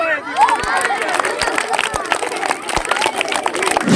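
A crowd claps at a street magic show, brisk uneven applause mixed with chatter and voices, fairly close and loud throughout.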